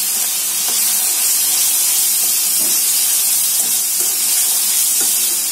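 Ginger garlic paste dropped into a pan of hot oil with fish and onion paste, giving a loud, steady hissing sizzle with faint clinks of stirring underneath, no voices.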